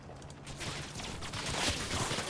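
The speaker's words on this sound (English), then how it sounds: "These guys get strafed at the end" Strafing gunfire rakes infantry in the Combat Mission game, set among Normandy hedgerows. A low, distant crackle of repeated shots builds gradually into a steadier rattle over a couple of seconds, with no voices.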